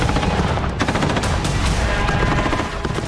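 Gunfire from street fighting in Kursk: dense, continuous bursts of rapid automatic shots overlapping into a loud, harsh roar with no pauses.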